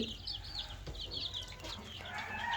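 Farm chickens, a flock of about three hundred drinking vaccine-laced water, cluck and chatter in overlapping bursts close by, faint overall with no talk.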